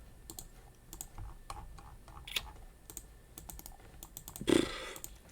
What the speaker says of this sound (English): it picks up on my keyboard a lot and my mouse a lot.